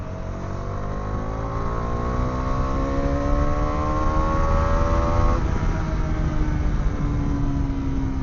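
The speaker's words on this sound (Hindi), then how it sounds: "बाकी अब यहाँ से अगर मैं पिकअप लूँ तो आप देखिए कितना अच्छा ये पिकअप ले लेती है" A 2024 Bajaj Dominar 400 motorcycle accelerates hard, its engine note climbing steadily in pitch, dropping briefly at a gear change and then climbing again. The sound is loud and close, with no voices.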